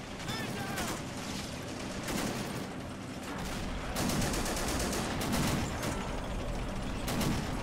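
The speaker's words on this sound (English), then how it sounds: "Got some BARs laying down, suppressing fire. Here's a 30 caliber machine gun" BAR rifles and a .30 caliber machine gun in a war video game, laying down suppressing fire during a hill assault by paratroopers with Sherman tanks rolling up: faint, steady rattling volleys and overlapping bursts heard from a distance.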